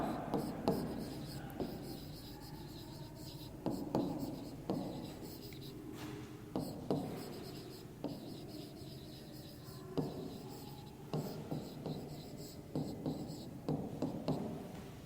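A pen writing out a math solution on paper: soft, close scratching strokes in short bursts with brief pauses, faint and steady throughout, with no speech.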